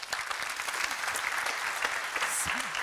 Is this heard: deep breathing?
no